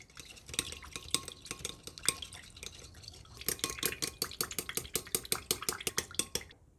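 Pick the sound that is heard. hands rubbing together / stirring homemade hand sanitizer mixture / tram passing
stirring homemade hand sanitizer mixture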